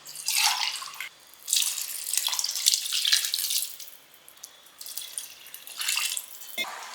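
Water is poured into a pot of rice for homemade vegetable biryani, 2.5 glasses to 1.5 glasses of rice, in several splashing bursts separated by short pauses.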